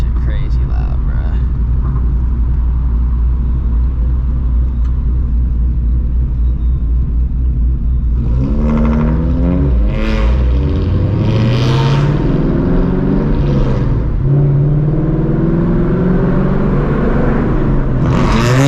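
Catless Ford Mustang GT V8 exhaust on Houston streets, a loud continuous rumble that swells into rising revs partway through, heard from inside the car with people talking over it.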